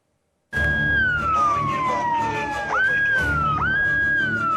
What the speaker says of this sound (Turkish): Saat gece yarısı. Sirenler acı acı çalıyor.